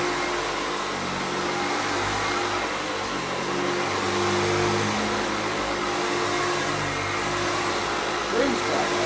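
A vintage Sebo Jeyes Hygiene vacuum cleaner runs continuously close by, giving off a loud, steady motor roar and whine with little change over several seconds.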